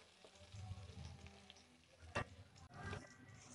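Onion-tomato paste with garlic frying in oil while being stirred, a faint soft sizzle with a few scraping stir sounds and light clinks, heard alone at a low level.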